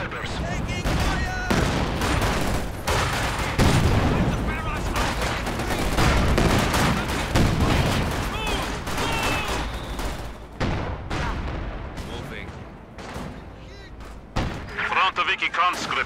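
A Soviet campaign battle in Company of Heroes 2 on hard difficulty, with loud, dense rifle and machine-gun fire crackling in rapid bursts alongside heavy thuds and booms, and voices speaking over the fighting.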